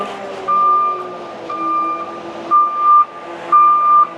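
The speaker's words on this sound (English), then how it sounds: "Concrete truck's here." A concrete truck arriving at a cabin foundation pour sounds its steady reversing beeps, four evenly spaced tones over a rumbling diesel engine nearby.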